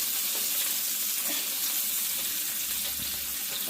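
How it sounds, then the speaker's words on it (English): Bacon fries in a pan with a dense, loud, crackling sizzle and scattered sharper spits of splattering fat, steady throughout and close up, with no talk. "It's starting to splatter now."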